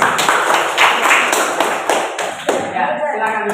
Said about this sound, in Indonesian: Tepuk tangan dulu sekali untuk kelompok 3